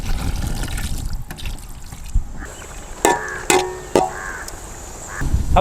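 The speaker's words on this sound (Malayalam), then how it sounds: "ഇനി നമുക്കിത് വേകാനായിട്ട് ഒരല്പം വെള്ളം ഒഴിച്ചു കൊടുക്കാം." Water pours into chicken masala in a pan for parda biryani, a soft trickling splash at first, followed by a few sharp crow caws from outside.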